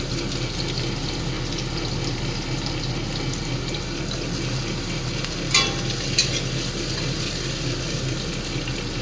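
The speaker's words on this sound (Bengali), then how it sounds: "আলুগুলো একটু নাড়বো, আলু একসঙ্গে দিয়ে দেবো" Thin-sliced potatoes frying in a pan with onion flowers, a steady dense sizzle throughout and a couple of brief utensil scrapes as they are stirred, no talking.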